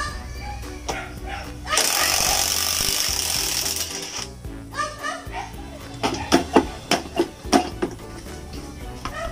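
An impact wrench hammers on the wheel of a Rusi Venus motorcycle, a loud sustained burst followed by several short sharp rattling bursts, close up with no speech over it.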